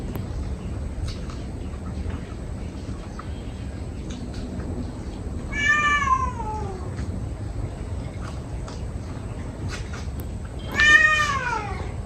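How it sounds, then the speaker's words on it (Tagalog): A pet cat meows twice at home in the Philippine countryside, each call a short rising-falling cry, the second slightly louder, over steady low background noise. "Yung pusa."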